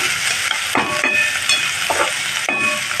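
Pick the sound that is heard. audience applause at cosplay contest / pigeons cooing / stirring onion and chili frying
stirring onion and chili frying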